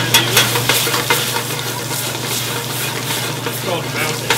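Butter sizzles in a hot pan of wine for an Arctic char sauce, a steady close frying hiss broken by light stirring clinks and swirls.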